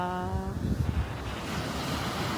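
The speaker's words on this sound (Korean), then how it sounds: "바다다, 바다야" Sea waves washing onto a sandy beach in Busan on an overcast day, a steady broadband surf wash with gusty wind noise, continuous and fairly loud, no talking.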